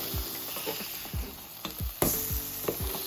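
Vegan burger patties sizzle loudly in a pan right after being flipped, a dense, close crackle with intermittent pops and scrapes and no voices.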